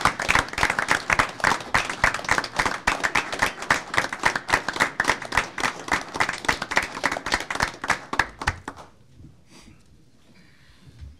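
Sustained clapping and applause from a meeting audience honoring the police and fire department, steady and dense for about nine seconds before stopping abruptly into near silence.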